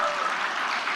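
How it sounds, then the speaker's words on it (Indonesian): Brief burst of applause from an audience of women at a political speech in Indonesia, a dense, fairly faint patter of clapping lasting about a second. "tepuk tangan dong ibu-ibu"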